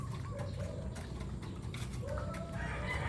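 A red junglefowl (labuyo) rooster among chickens on a backyard farm gives clucking calls and a short crowing phrase, close and moderately loud over steady outdoor background noise.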